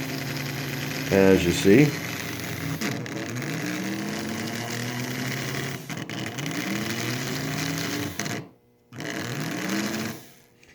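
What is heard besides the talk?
antique Marx toy motor running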